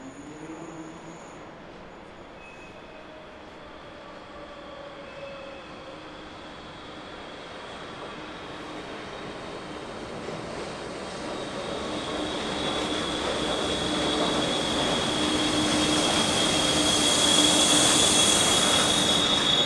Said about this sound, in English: Another freight enters the yard from the east behind